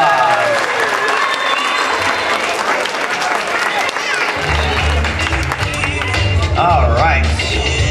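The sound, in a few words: audience applause after a magic trick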